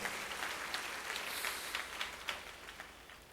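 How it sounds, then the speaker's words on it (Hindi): An audience claps in continuous, dense applause at a Hindu devotional Bhagavat discourse, a steady crackling patter that holds at an even level throughout. "थोड़ी देर ताली न बजाएं जब तक भागवत पूरी न हो।"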